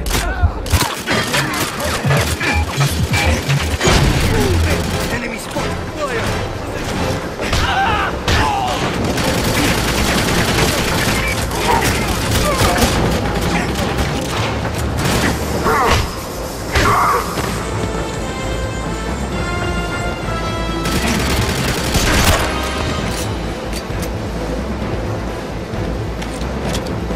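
Gunfire and explosions from the GoldenEye Wii remake, a dense, loud barrage of shots, crashes and impacts layered over game music throughout, with a brief shouted voice.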